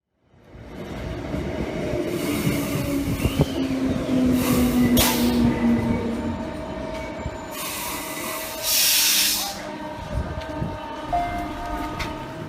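A rail car rolls along the tracks with a continuous rumbling clatter, thin wheel squeals, and brief louder bursts of rushing noise, with no talking.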